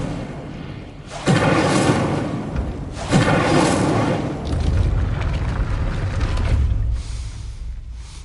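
Incendio fire spell blast in a Harry Potter video game: two loud whooshing bursts about two seconds apart, then a sustained low rumbling, creaking roar that fades out.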